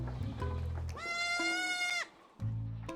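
Goats on a black goat farm in Hwasun, South Jeonnam, bleating in a loud, drawn-out cry lasting about a second, set among nearby farm noise and lower animal sounds.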